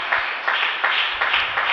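A church congregation claps hands together in a steady, lively rhythm, close and loud with regular pulses, during a Sunday morning worship service in Ipatinga, Minas Gerais.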